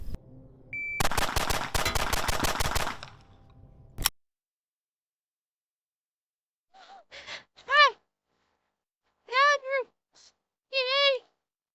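A Glock 43X striker-fired pistol fires a fast string of shots in a tight rapid burst, then one final shot after a brief pause. Scattered short voiced exclamations and gasps follow in the quiet.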